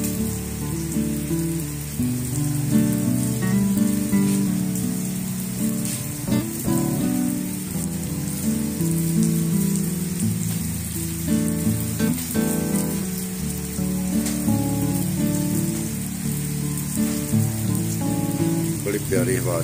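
Heavy monsoon downpour pounding steadily on surfaces, a dense continuous patter close by with gusts of wind, lasting throughout with little variation.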